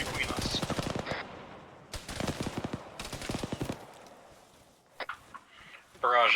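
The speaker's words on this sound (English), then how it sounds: "they're shooting between us" Automatic gunfire in Arma 3, rapid bursts of machine-gun rounds in several rattling strings, fairly close and loud, with a few scattered single shots and faint radio-like chatter in the gaps.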